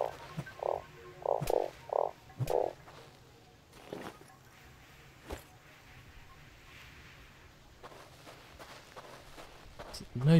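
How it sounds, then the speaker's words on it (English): A frog in the survival game StarSand croaks five times in quick succession near the start, fairly close and clear, followed by scattered footsteps and quieter ambient rustling. "Maybe I'll find some frogs."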